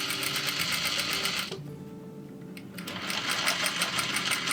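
Sewing machine stitching around the edges of a full-length dress, a fast steady mechanical whir that stops briefly for about a second and then resumes, close and loud with no talk.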